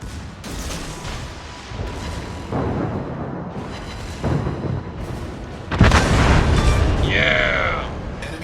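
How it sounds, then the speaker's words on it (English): An enemy destroyer blowing up in World of Warships: a series of deep booms and rumbling blasts that swell to a heavy, loud explosion near the end, followed by a crackling, roaring tail. "Enemy destroyer blown up."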